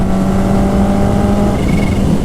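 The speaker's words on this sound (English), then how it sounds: "Listen to that exhaust." A Kawasaki Ninja H2R motorcycle's exhaust roars loud and close, holding a steady high-rev drone with a faint whine climbing near the end, constant throughout with no voices.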